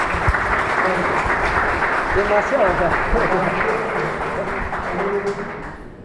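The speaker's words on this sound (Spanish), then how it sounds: "le damos un aplauso" An audience at a university lecture on chemical air pollutant exposure in Tucumán claps steadily in sustained applause, dense and fairly loud throughout, with a brief voice heard under it.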